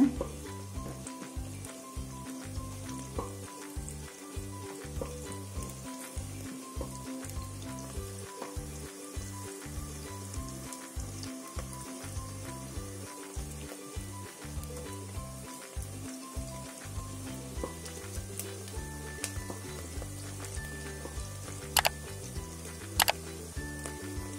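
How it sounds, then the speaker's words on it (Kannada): Cashew nuts fry in a pan while coconut milk pulao is being made. A quiet, steady sizzle runs throughout over a repetitive low rhythmic thumping, with two brief clicks near the end. "ಗೋಡಂಬಿ ಫ್ರೈ ಮಾಡ್ಕೊಳ್ಳೋಣ."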